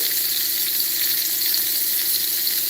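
A pot roast sears in hot oil, filling the whole stretch with a loud, close, unbroken hiss and crackle of frying, with no talking.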